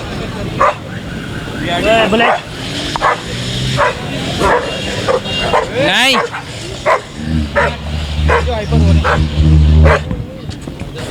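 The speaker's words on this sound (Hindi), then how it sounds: "तो नाज़रीन आप लोग देख सकते हैं यहाँ पर कुत्तों की लड़ाई शुरू हो गई है।" Dogs, including a pitbull, fighting at a Sunday pet market in Saddar, Karachi: repeated close barks, yelps and whimpers in bursts, with people talking loudly over the scuffle.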